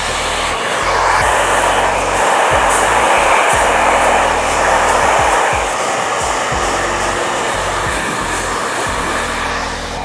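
A Wahl Barber Dryer blows a loud, steady roar of air on its high-speed setting, close by and continuous, with slight shifts in tone as the airflow moves.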